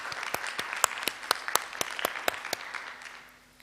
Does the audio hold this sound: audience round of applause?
yes